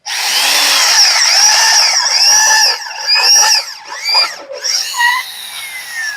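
A homemade conical drill bit cuts into a silver Eaton axle cone, a loud, sustained high-pitched metal screech with shifting, wavering tones that breaks into shorter squealing bursts toward the end.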